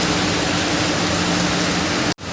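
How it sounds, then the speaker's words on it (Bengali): Heavy rain pouring down in Kerala as a steady, dense wash of noise, loud and continuous, with a brief dropout near the end; no talking. "অনেক অনেক বৃষ্টি, অনেক বৃষ্টি নামছে আজকে"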